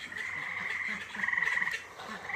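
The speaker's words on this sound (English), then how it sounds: "Listen to those tree frogs." Tree frogs croak at night in a steady, dense chorus of rapid pulsing trills, fairly close and continuous, heard outdoors near a waterfowl coop with no talk over them.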